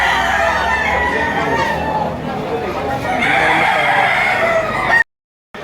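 A rooster crows loudly nearby at a chicken market in Lipa, Batangas, with chickens clucking and people chattering in the background before an abrupt cut to silence.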